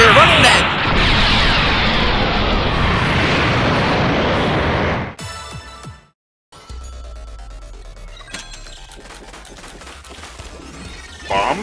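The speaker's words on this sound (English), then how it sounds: "why are those portal explosions so big?" Big video game explosions from suction bombs and portal blasts boom loudly and continuously for about five seconds, then cut out. Quieter game sounds and crackles follow.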